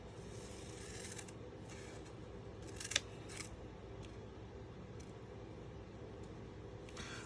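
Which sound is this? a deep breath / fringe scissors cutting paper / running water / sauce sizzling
fringe scissors cutting paper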